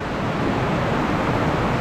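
Steady, loud roaring north wind buffets the microphone throughout during rain among indoor plants, a dense continuous rush with no pauses and no voices.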